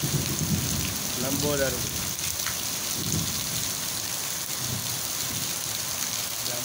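Steady rain pouring in a village, a dense continuous hiss of drops with faint distant rumbles, and a voice speaking briefly over it.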